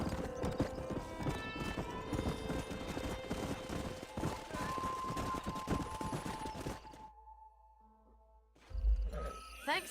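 Horses in Red Dead Redemption trot with rapid, close clip-clop hoofbeats and an occasional neigh amid bursts of gunfire, then the hooves fade to near silence before a low thump returns.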